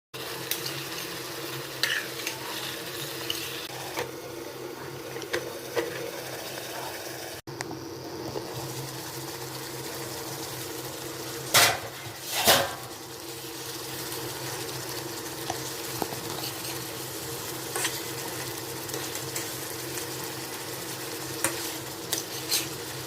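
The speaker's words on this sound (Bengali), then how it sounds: "একটু সামান্য জল দিয়ে একটু নাড়াচাড়া করে কিছুক্ষণের জন্য ঢেকে ঢেকে রান্না করব" Prawn malai curry being stirred in a pan, a steady soft scraping and gentle sizzle running throughout with no talk, a few louder scrapes standing out near the middle.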